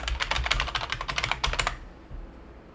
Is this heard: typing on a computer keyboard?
yes